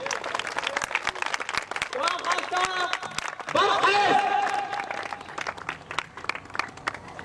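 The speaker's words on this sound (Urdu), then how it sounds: "تو آپ کی تالیوں کی گونج میں" An audience at a Khaksar Tehrik gathering claps, a dense patter of applause that rises midway and then thins, with someone speaking over it.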